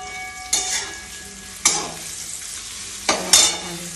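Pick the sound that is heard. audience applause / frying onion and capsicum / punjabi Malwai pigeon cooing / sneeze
frying onion and capsicum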